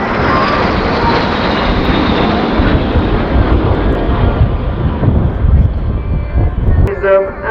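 An L-39 jet roars loudly past at an air show, its broad engine noise sustained and then slowly fading as it moves away.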